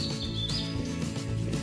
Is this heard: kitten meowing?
no